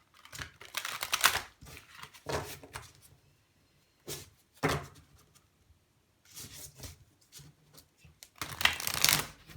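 Tarot cards being shuffled in bursts of riffling and sliding, several separate rounds with short pauses between, close and fairly quiet with no talking.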